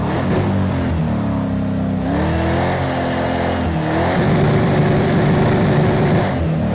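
A Ford Mustang drifting in the racing game Project CARS 2 gives a loud, steady engine note that rises and falls with throttle, revving up in pitch in steps, with no talk over it.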